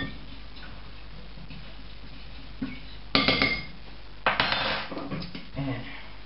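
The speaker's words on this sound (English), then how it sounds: "let's stir these up a little bit" Pancake ingredients stirred in a bowl: a quiet start, then bursts of clinking, scraping utensil-on-bowl strokes in quick irregular rhythm, close and fairly loud.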